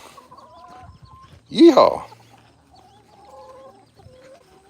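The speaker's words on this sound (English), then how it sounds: "Look out, chickens." Chickens cluck softly in the background on a small farm, with a loud burst of noise in the middle and a person's shout over the birds.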